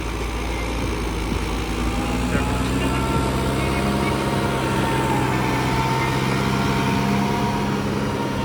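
A 5630 tractor works a paddy field on the last harvesting day of the season, its engine holding a loud, steady, low rumble throughout.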